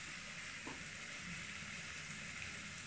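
Ingredients frying in hot oil for matar pulao, a continuous quiet even sizzle with a hissy texture, steady throughout, low in level and without speech.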